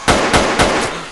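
Sharp, loud bursts of video game gunfire crack in quick succession, about four shots spaced evenly, with a noisy wash between them, in a zombie apocalypse game.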